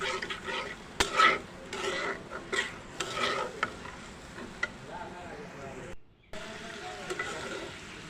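Half a teaspoon of cumin powder with spices fries and gets stirred in hot oil for a tilapia head and Malabar spinach curry, a soft steady sizzle with scraping stirs and clinks of a pan, brief pause near the end.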